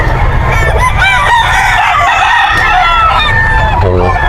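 Eight-month-old stags crow repeatedly at a crowded pet market, several loud, close cock-a-doodle-doo calls overlapping with clucking fowl and background chatter.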